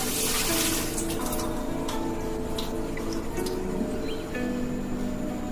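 Water being squeezed out of the full length of freshly shampooed wet hair, a soft trickling and dripping with small wet squelches over a steady low background hum, close and fairly quiet, with no talking.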